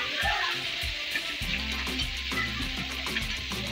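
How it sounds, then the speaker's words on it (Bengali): Small morola fish frying in a pan, with a steady loud sizzle and crackle of hot oil close up, and a few brief stirring knocks. "কম কম করে ভাজা করতে হবে"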